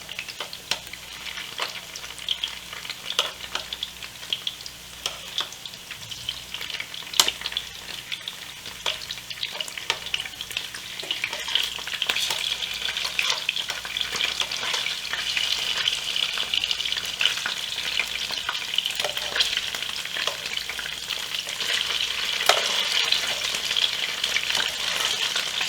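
Tofu frying in a pan after being flipped gives a steady, crackling sizzle for the whole stretch, growing slightly louder and denser, with occasional sharper pops.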